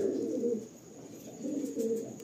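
Pilanka pigeons, a strong-flying breed, coo in a pair, soft low rolling phrases rising and falling in two waves, close and steady with no voices.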